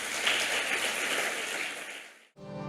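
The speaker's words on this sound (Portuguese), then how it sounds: "Você pode aplaudir a Deus nessa noite?" Congregation at an evening church celebration service gives a dense, sustained round of applause that fades out near the end, with a brief tone of music starting after it.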